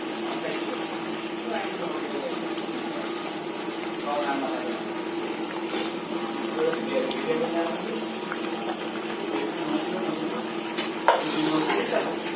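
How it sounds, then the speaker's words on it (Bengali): Fried tilapia pieces go into a simmering curry of spiny gourd and potatoes, with a steady low sizzle, soft stirring and occasional utensil clinks against the pan, and a voice talking over the cooking. "এবার ভাজা মাছগুলো দিয়ে দিব"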